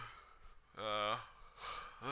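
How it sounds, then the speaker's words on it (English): A drawn-out yawn with voiced, falling harmonics, followed by a breathy exhale and the start of another yawn, close and fairly loud. "I'm yawning."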